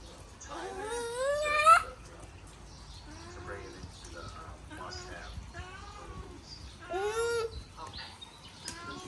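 A cat gives a loud, rising meow, followed by several softer, shorter mewing calls spread through the clip, with quiet background noise between them.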